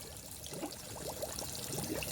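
Water pours down into a fish tank or tub, a continuous gushing, bubbling flow heard up close and fairly loud, with no voices over it.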